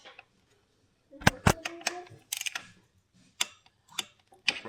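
A torque wrench clicks while it tightens the bolts on fork lug guards from BulletProofDesigns. There are several sharp, close clicks in short bursts with pauses between them, and a faint voice can be heard at times.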